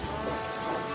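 Steady rain falls on a muddy island on a rainy day, a dense, even hiss of drops with no break, loud and close, with no voices over it.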